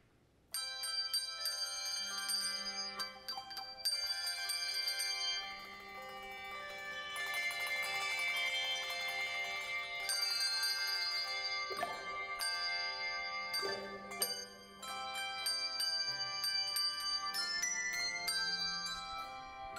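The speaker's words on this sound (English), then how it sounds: "Now we have the pleasure of listening to our Fifth Street Bells as they have our prelude for us." A church handbell choir rings a prelude during a traditional worship service, with sustained overlapping bell tones, struck notes and chords ringing out steadily for about twenty seconds, clear and resonant with no talking.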